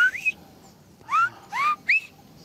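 Shepherds of Euboea whistle the vowels A-O-I in their whistled language, a short fading whistle followed by three clear rising tones, each one distinct and separated by brief pauses, loud and near over faint outdoor background.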